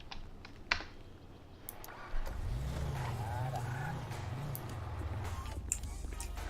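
Keyboard clicks rattle at first, then a police car engine in the FiveM game starts and drones steadily as the vehicle pulls out of the garage, with scattered key taps continuing over it.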